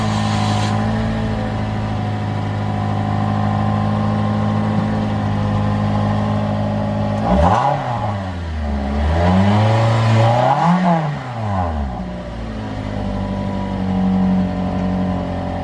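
A 2015 Toyota Corolla LE on its stock exhaust, cold-started and idling with a steady low hum, then blipped through a few rising and falling revs before settling back to idle, close and clear.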